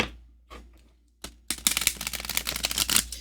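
An Egyptian Star Oracle card deck is handled, a few soft taps and card riffles leading into a fast, crisp run of shuffling clicks and flutters, close and alone.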